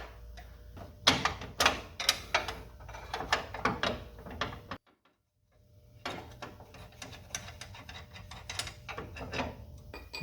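Wrench working tie rod nuts off the steering rack of a John Deere D series mower, giving repeated close ratcheting clicks and metallic clanks in uneven bursts, with a short pause midway.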